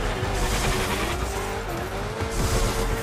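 A race car in the Fortnite racing mode boosts and skids, engine whine climbing in pitch over dense tire squeal and rumble, loud and continuous throughout.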